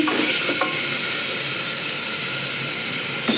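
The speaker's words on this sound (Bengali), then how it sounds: "ভালো করে নেড়ে চেড়ে" Curry with chili powder being stirred in a hot pan, a loud, steady frying sizzle with a few scraping strokes of the spoon near the start and end.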